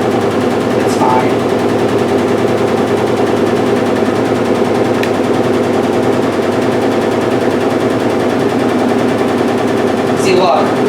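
1996 Maytag Dependable Care Plus washing machine in a new house, spinning hard enough to shake the floor, with a loud, constant rapid rattling and thumping and brief voices over it.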